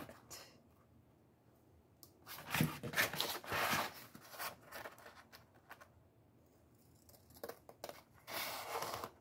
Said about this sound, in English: So we go ahead and cut.